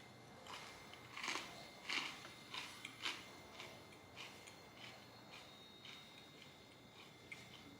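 Bites into a thick, dense chocolate chip cookie give a series of brittle crunches and crackles, loudest in the first few seconds and then fading into softer chewing, close by with no talking.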